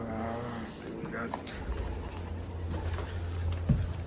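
Racing pigeons in a loft giving soft, low cooing calls, faint and intermittent beneath someone talking nearby.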